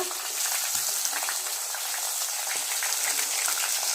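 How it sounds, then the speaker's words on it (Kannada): Mustard seeds spluttering and crushed garlic frying in hot oil for a sprouted horse gram fry, a dense, continuous close sizzle with faint scattered pops and no talking. "ಸಾಸಿವೆ ಸಿಡಿದಾದ್ಮೇಲೆ ಜಜ್ಜಿದ ಬೆಳ್ಳುಳ್ಳಿ ಹಾಕೋಣ"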